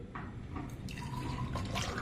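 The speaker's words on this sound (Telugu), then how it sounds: "ఇప్పుడు మనం గ్లాస్లోకి షిఫ్ట్ చేసేసుకుందామండి" Fresh watermelon juice pours and trickles into glasses with faint splashing and dripping, quiet and close, with no voices.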